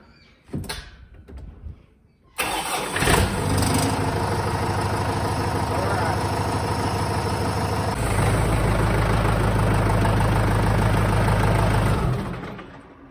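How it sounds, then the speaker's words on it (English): Kubota tractor diesel engine after a starting fault was fixed, a few knocks and handling sounds, then a cranking burst that catches into a steady loud close idle, the rumble deepening partway through before cutting off. "Go ahead and try to give it a crank now."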